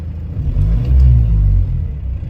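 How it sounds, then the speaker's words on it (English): Car engine revved with light throttle above 1500 RPM, a steady close low rumble that swells briefly and settles back, with no talk. "I'm just going to give it a little bit of gas and you'll see that happen"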